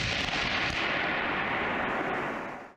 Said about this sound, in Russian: В Иркутской области гремят взрывы